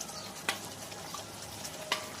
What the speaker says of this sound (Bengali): হালকা হাতে নেড়ে নেব